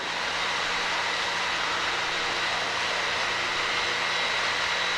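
Light training aircraft engine at full power on the takeoff roll, a loud, steady droning roar with a constant whine, heard from inside the cabin without pause.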